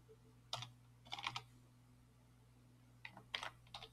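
Computer keyboard keys being pressed while coding an Android TabLayout, in short separate bursts of a few clicks each, near and fairly quiet over a steady low hum, with no talking.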